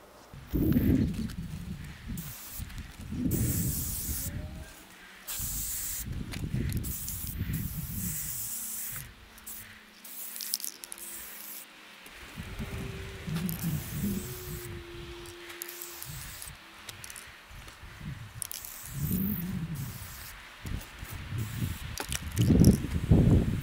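Primer is sprayed from a can onto a plastic model structure in long hissing bursts with short gaps between them, the steady spray close and loud throughout with no talking.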